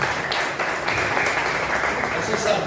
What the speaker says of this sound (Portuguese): As palmas são para Jesus